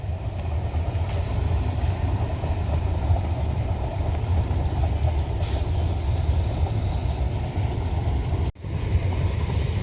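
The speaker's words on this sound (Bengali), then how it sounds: "পরের ট্রেন ঢুকে গেছে।" A train pulling into a station, a continuous heavy rumble and roar that stays steady for the whole span, fairly loud and close, with a brief break near the end and no speech.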